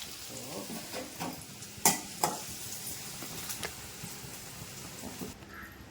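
Half a cut onion sautés in hot oil in a kadai with a soft, fairly quiet sizzle, punctuated by a couple of sharp stirring clicks and light crackles.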